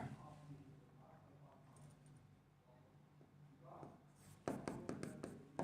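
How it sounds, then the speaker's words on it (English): A teacher writing on a board during a chemistry lesson: soft scratchy strokes, growing louder and more rhythmic toward the end, close by, with faint voice in the background. "So I am writing here first."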